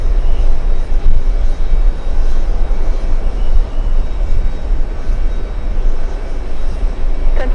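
A jet airliner comes in to land on runway 22 Left at JFK airport, its engines a loud, continuous low roar and rumble that fills the whole stretch with steady broadband noise.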